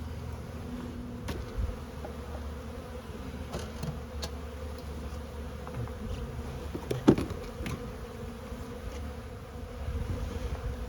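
A honeybee colony around a small patch of brood gives a continuous close buzzing hum, with occasional clicks and light handling knocks during the inspection.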